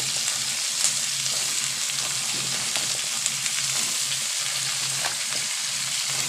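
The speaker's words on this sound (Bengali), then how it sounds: "এগুলোকে হালকা করে একটু ফ্রাই করে নেওয়া হবে" Vegetables frying in a wok for a temple offering meal, a steady close sizzle running throughout with occasional soft clicks of stirring and no voices.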